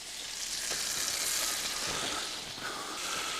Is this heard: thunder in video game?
no